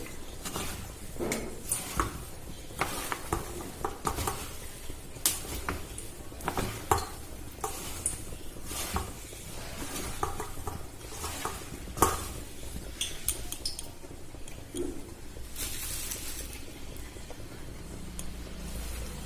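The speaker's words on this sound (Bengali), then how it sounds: "হলুদ গুঁড়ো আর লঙ্কার গুঁড়ো এবারে দিয়ে দেব কর্নফ্লাওয়ার এটা আবার একসাথে খুব ভালো করে মিশিয়ে নেব" Soya chunks being hand-mixed with turmeric, chili powder and cornflour in a bowl, with irregular squishing and stirring scrapes that come and go close by, plus occasional clinks of a utensil against the dish.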